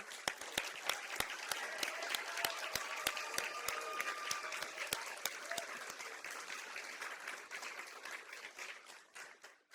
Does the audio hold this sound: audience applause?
yes